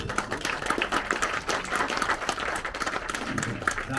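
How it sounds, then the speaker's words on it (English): Audience applause at a fundraising event, a steady dense wash of many hands clapping throughout at moderate loudness, with no clear break or pause. "Give yourself a round of applause."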